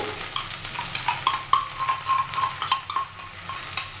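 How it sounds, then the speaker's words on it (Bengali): Tomato going into a pan of frying turmeric, with soft sizzling under repeated light stirring and scraping clicks of a utensil against the pan, close and steady. "তো এর মধ্যে আমি দিয়ে দিচ্ছি টমেটো"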